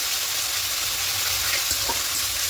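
Mushrooms sizzle steadily in a pan as ginger garlic paste is mixed in, giving a dense, constant hiss with a few faint stirring scrapes, close and continuous.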